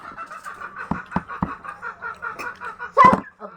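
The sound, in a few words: chicken clucking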